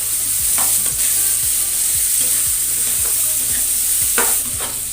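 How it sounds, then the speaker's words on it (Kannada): Crushed gooseberries mixed with chilli powder, turmeric, fenugreek powder and salt are stirred in a pan over a low flame, giving a soft sizzle with repeated rhythmic scraping strokes of the spoon against the pan. No one speaks. "ಈಗ ಸಣ್ಣ ಉರಿಯಲ್ಲೇ ತಿರುಗಿಸ್ತಾ ಇರಬೇಕು"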